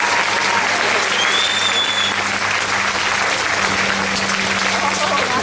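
A graduation audience at Hillside High in 2013 applauds scholarship earners: loud, dense, continuous clapping filling the whole stretch, with a faint murmur of crowd voices beneath.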